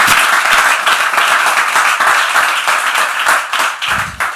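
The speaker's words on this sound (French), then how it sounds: "Oui, Timothée, avec des applaudissements." Studio audience on a French television talk show applauding a guest coming onto the set, loud continuous clapping with rhythmic bursts, close and full.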